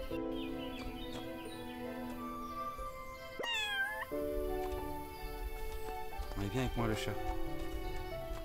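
Cat meowing in the farming life-sim game Everdream Valley, a few rising, wavering meows standing out against steady game music and ambience, with someone talking over parts of it.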